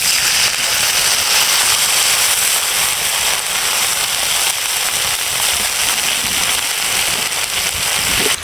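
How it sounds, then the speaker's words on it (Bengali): Frying onions hiss and crackle loudly after a little water is poured into the pan for an egg bhuna, a dense, steady sizzle heard up close without speech. "পেঁয়াজে এখন আমি সামান্য একটু জল দিয়ে দেবো।"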